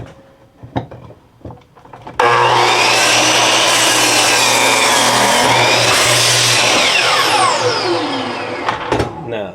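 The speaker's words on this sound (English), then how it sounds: "Let's see if we can cut a 45 on this saw" A power saw spins up and cuts a 45-degree angle through wood, a loud sustained whining cut lasting several seconds after a few clunks of setup, then winding down.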